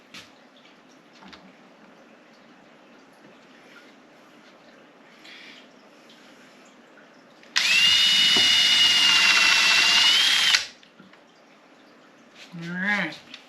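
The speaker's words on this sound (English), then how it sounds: "That's when you run the drill nice and slow." A power drill bores into a wooden dresser, a loud steady whine lasting about three seconds, with quiet room noise around it and brief speech afterward.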